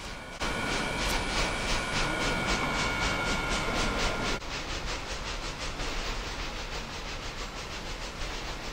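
An English Electric locomotive rolls into a Cincinnati rail yard for switching, a steady broadband rumble and hiss with a faint regular clicking in the first half before the sound drops slightly and continues evenly.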